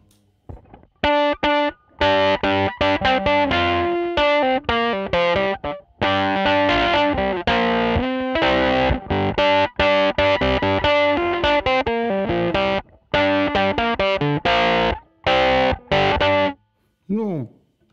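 Fender Jaguar Classic Player Special HH electric guitar with the tone knob fully down, played loud and distorted through effects in a continuous riff with short pauses, ending on a bending note.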